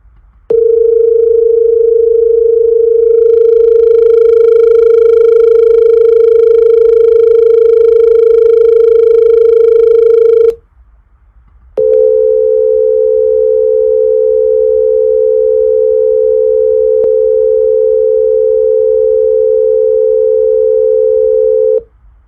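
Accordion holding two close reed tones that beat against each other in a dissonant interval, a steady sustained drone alone, briefly stopping and then resuming at a slightly shifted pitch.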